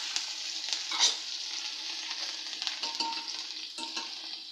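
Finely chopped green chillies with turmeric and a pinch of asafoetida fry in hot oil, making a continuous bright sizzle with soft stirring scrapes throughout.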